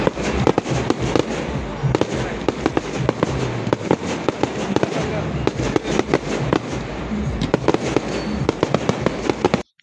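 Fireworks at a Diwali celebration in America crackle and pop in rapid, uneven bursts, with loud sharp bangs over a steady fizzing hiss; people talk in the background throughout.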